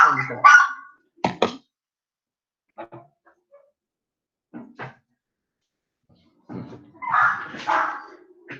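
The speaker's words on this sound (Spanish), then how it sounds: "Ven ahí mis perritos, no sé si lo escuchan" Pet dogs bark in short, sharp bursts with silent gaps between them, some barks louder and nearer, others faint, in an indoor home setting.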